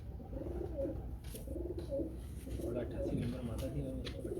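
Pigeons cooing softly in repeated low, throaty phrases at moderate distance, with someone talking over them throughout.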